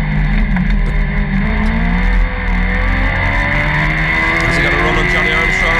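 Club race cars at Kirkistown circuit in a Sevens Challenge race accelerating hard, loud continuous engine roar with rising revs, under a commentator's voice.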